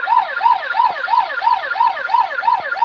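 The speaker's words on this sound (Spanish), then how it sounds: "Suenan sirenas en el consultorio Pipero" A wailing emergency siren, likely an ambulance, cycles steadily up and down in repeated rising-falling sweeps, loud and close, with no voices during the clip.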